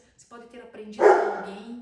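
A dog barks behind continuous speech, with a single loud bark landing about halfway through and fading under the talker's voice.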